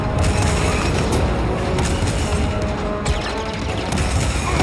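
A big cannon firing in Jedi: Fallen Order: heavy booming blasts and crashing impacts roll through a loud, continuous battle din, with a brief dip before the barrage resumes.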